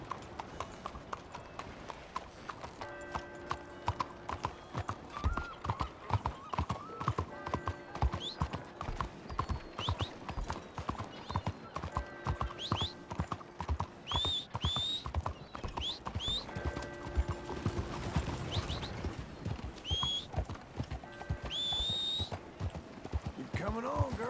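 Horse hooves clip-clop in Red Dead Redemption 2, a steady rhythmic trot running throughout with occasional whinnies, game music and voices talking over it.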